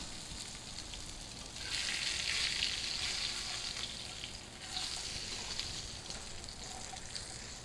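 Blackened salmon fillet sizzling in a hot pan, a steady hiss that swells louder for a couple of seconds and again later, heard close with no talking.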